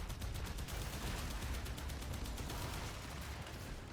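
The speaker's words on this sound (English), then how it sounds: "Resummon my arc gun." Rapid continuous weapon fire from a summoned arc gun during the Profit-Taker fight in the Warframe video game, a dense unbroken crackling barrage with steady loudness throughout, no talking.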